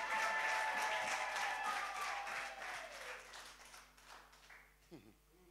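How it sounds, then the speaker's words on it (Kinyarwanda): A church congregation claps and ululates in praise of God during a worship service. The sound is loud and dense at first, then gradually fades, with speech over it. "tukomere Imana amashyi tuyivugirize impundu"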